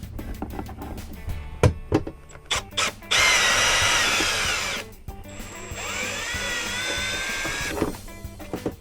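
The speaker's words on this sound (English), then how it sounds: "what I'll have to do is remove those 3 screws first to take this" A power drill backs screws out of a blind bracket inside a Wildwood FSX 170SS RV: several short whirring bursts, then a long steady high-pitched run and another sustained spin, loud and close, with no talk.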